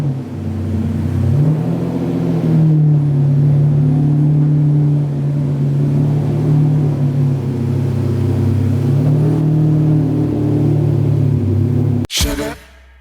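A Lamborghini Diablo engine runs loud and close for about twelve seconds, a steady low rumble that swells with revving, then cuts off abruptly near the end.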